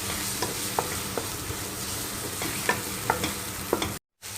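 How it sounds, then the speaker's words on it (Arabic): Onions stirred in hot oil in a frying pan, giving a steady low sizzle broken by several sharp scraping stirs of the utensil against the pan, close and alone, with a brief cut to silence near the end. "ضفت البصل واحرك فيه لما يتغير لونه الى اللون البني"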